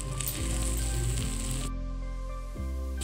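Cashews drop into melted fat in a hot pan while cooking black pepper mutton gravy, giving a steady, close, loud sizzle with bubbling crackle that shifts slightly in tone partway through.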